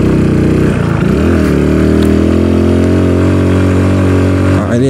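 A home-built 110cc motorcycle engine labors loudly and steadily up a hill, close by, its revs rising and falling slightly with the throttle, with no talk over it.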